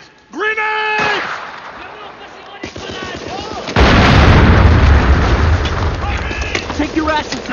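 Grenade explosions in World War I trenches: a heavy boom bursts in loud and sustained, followed by rumbling debris, with shouting voices before and around the blasts.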